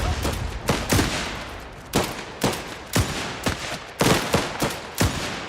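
Volleys of rifle and machine-gun fire in Last Train Home, a game about the Czechoslovak Legion: loud, sharp bursts of shots arrive in irregular clusters about once a second, each crack trailing off before the next.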